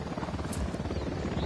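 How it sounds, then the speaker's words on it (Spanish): Steady low rotor thumping of a helicopter in the video game Ghost Recon Wildlands, fairly close and constant, with a faint digital game-like quality and no clear speech. "Un helicóptero de la unidad."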